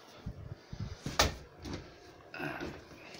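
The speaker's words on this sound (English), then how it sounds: "let's close the door" An interior door swings shut with a single sharp close just over a second in, set among soft handling and rustling noises close by.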